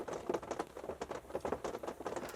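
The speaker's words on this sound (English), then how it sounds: "That is the rain." Rain patters steadily on the roof of a small teardrop camper parked in the Adirondacks in fall, a soft, dense, even tapping heard up close from inside.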